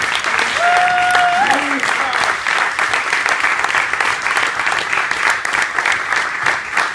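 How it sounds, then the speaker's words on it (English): Warm, sustained audience applause for Allena Gabosch, Executive Director of the Center for Sex Positive Culture, at a tribute event. A dense, steady wash of clapping runs the full length, with a brief whistle-like tone near the start. "really warm round of applause to Allena Gabosch"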